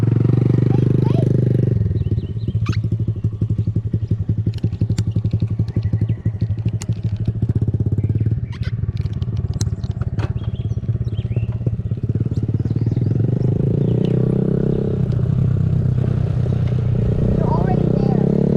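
A stunted-out Honda Grom motorcycle runs close by, its small engine idling and rising in short revs with chain and mechanical clatter, while people talk over it.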